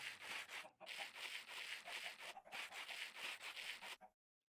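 Sandpaper being used in a Minecraft game, heard as a loud, close rasping scrape in quick repeated back-and-forth strokes, broken by two short pauses before it stops abruptly into silence.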